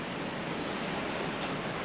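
Ocean surf rolls on the coast of Ile de Batz, a steady broadband wash of waves mixed with wind rushing against the microphone. There is no talk.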